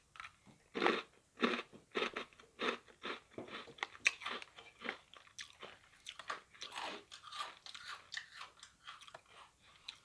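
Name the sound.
crunchy snack being chewed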